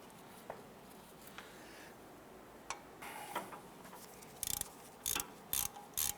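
A ratchet with a 17mm socket and extension works a rusted bolt on a 2007-2012 Nissan Versa front wheel hub, giving faint scattered clicks and then several short, sharp ratcheting bursts close by.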